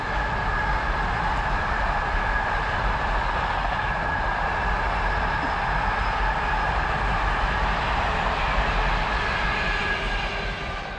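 A Tesco freight train passes on a railway line near a disused railway route, its steady rumble and rolling noise holding loud and continuous throughout, with a faint tonal whine above the broad roar.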